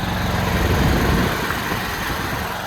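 A standby generator engine runs steadily during its weekly startup test with load transfer to a large heating load, giving a loud, close, continuous droning rumble without pause.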